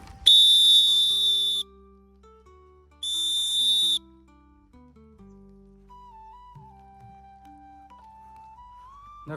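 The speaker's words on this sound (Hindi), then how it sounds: "सीटी बजा करके अनुभव कर लेते हैं अगले वाले का।" A whistle is blown to signal walkers on the Narmada pilgrimage: two long, loud, shrill blasts with a short pause between them, then soft tones continue.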